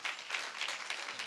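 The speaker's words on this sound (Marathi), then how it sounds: "टाळ्या वाजवा की राव सर्व" An audience claps at a comedic Marathi kirtan, a faint, brief burst of applause with soft irregular hand claps and no voices.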